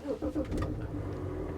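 A diesel BMW X5 xDrive35d starting up: a brief crank and catch settling into a steady low engine rumble close by, with a voice briefly audible over it.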